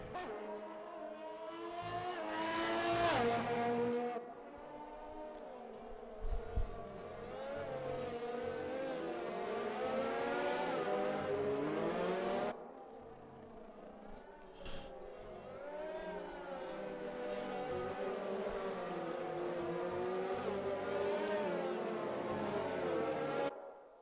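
Race cars in a racing video game at the Hungary circuit drone with engines revving, their pitch rising and falling through gear changes, a steady loud roar throughout.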